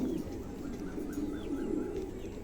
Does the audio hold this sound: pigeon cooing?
yes